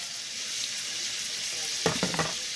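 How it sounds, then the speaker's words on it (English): Mushrooms fry in butter with salt in a pan, giving a steady broadband sizzle, with a few brief louder clatters or stirs near the end. "Put that salt, put that butter in there and let it fry up."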